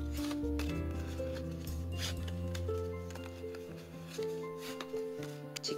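A sheet of A4 paper is creased and folded for an origami hexagonal box, giving soft crisp crinkles and a few sharper snaps, heard close under steady background music.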